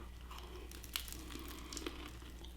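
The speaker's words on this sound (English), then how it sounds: "Nice and crispy on the outside. Cabbage is still nice and crunchy." Biting into a crispy homemade chicken and cabbage egg roll: two brief crunchy bites about a second apart, close and fairly quiet over a low steady background hum.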